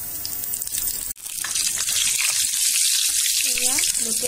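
Chicken lollipop leg pieces drop into hot oil, which bursts into a loud, steady hiss and sizzle after a brief pause.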